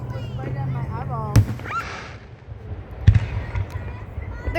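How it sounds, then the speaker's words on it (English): Fourth of July fireworks pop and thud in two sharp booms a couple of seconds apart, nearby and loud, while people talk and exclaim. "There's literally a firework."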